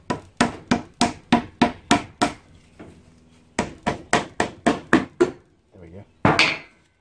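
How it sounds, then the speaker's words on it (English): A hammer taps repeatedly on a Honda 250cc V-twin engine part to free it, giving two sharp, evenly spaced runs of close metallic knocks separated by a brief pause, then a final heavier blow. "magic hammer. Now, obviously there's nothing to tap against this time, so we'll have to just see if we can free it off this way."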